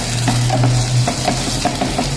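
A spoon stirs sweet corn soup in a pan, giving repeated soft scrapes and gentle bubbling over a low hum, close and fairly loud.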